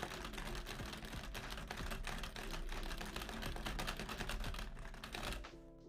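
Plastic keys on a LEGO grand piano model keyboard clack in quick, dense, uneven bursts like rapid typing, close and fairly loud, then stop near the end.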